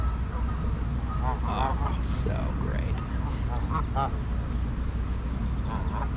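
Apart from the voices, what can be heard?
birds calling at Echo Park lake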